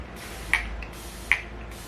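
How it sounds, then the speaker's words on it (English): Two quick hissing bursts of a makeup setting spray mist, about a second apart, close up over a faint background hum. "I also use quite a lot of setting spray these days."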